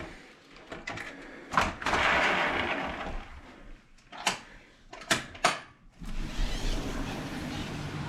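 A hotel room's sliding balcony door at an ocean-view resort is opened, giving several sharp clacks and a rolling slide, then a broad rush of warm outdoor air and distant ambience, fairly close and with no talking.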